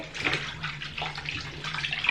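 Water from a tap runs into a basin where a cheerleading uniform is left soaking, a steady splashing and gurgling stream heard close and moderately loud, with a low hum beneath.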